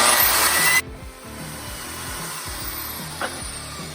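A power tool cuts into a factory Jeep JK control arm, a loud grinding burst at first, then a steady whining buzz with repeating low pulses as the cut continues.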